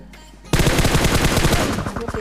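Rapid automatic gunfire from a battle royale video game, loud bursts of closely spaced shots beginning abruptly after a quieter start and continuing densely to the end.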